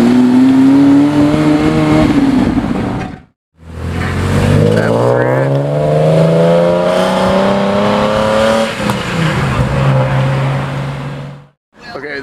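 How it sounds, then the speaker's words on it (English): A chalk gray Porsche GT3 Touring pulls away at a car meet, its engine revving loudly and climbing through rising gears close by, with people talking excitedly over it. "Chalk gray GT3 Touring is leaving."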